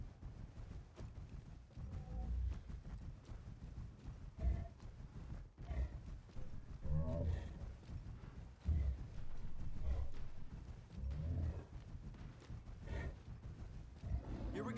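Hooves of a horse ridden in a Star Wars Jedi video game, beating in a steady repeating gallop rhythm under continuous game music and ambient effects.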